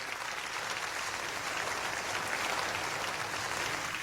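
A church congregation clapping in praise, a dense, steady wash of many hands applauding together without pause, fairly even in loudness throughout.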